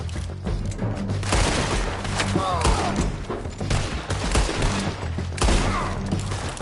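Rapid bursts of gunfire in Red Dead Redemption 2, a loud fusillade of shots and booms repeating throughout, with voices shouting over the shooting.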